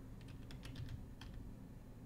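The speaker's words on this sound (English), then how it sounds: "It's kind of hard to type because like the keyboard's over my other computer" Quiet clicking on a computer keyboard, a short burst of uneven keystrokes tapping away at close range with a faint background hum and no talking.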